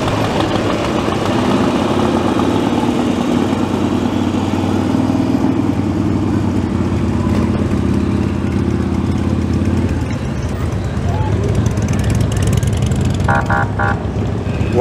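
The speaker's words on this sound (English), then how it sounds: "Quite the assortment of bikes and trikes. Love that sound, love that smell." Motorcycles and trikes of a riders' club roll past in a July 4th parade in Pahrump, Nevada, a steady, loud mix of idling and rumbling engines throughout, with a brief higher tone near the end.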